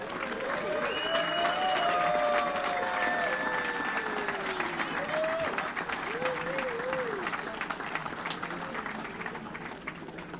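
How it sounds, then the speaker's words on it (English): Sustained audience applause for union local prize winners at a live-streamed awards event, steady and fairly loud throughout, with cheering and voices mixed into the clapping. "Let's hear a round of applause."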